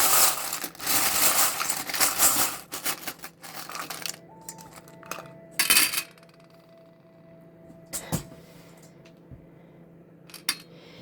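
Small oracle charms are shuffled and rattled together for a reading, a cluster of close clicking and clinking at first, then sparse taps and tinkles over a faint steady tone.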